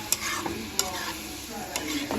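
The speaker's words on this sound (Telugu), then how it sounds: "కర్డ్ కూడా యాడ్ చేసి కర్డ్ మొత్తం ఇదైపోయేదాకా అయితే ఫ్రై చేస్తాము." Spicy chicken with curd sizzles in a pan, close up, with three sharp spoon scrapes as it's stirred over steady frying.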